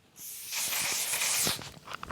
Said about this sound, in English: This one kind of has like an aerosol spray.